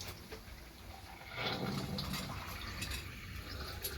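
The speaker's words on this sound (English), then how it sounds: "So now the vast majority of water should be removed, drained out of this keg." Rinse water gushing and splashing as it drains out of a corny keg being cleaned with PBW, a steady close pour that swells after a quiet start and keeps running to the end.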